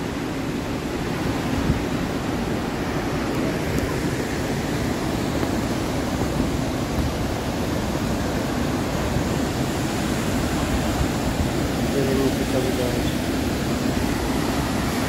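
Dense, constant rushing of water at the Bhimkund waterfall, a broad roaring wash with no breaks, heard close and loud.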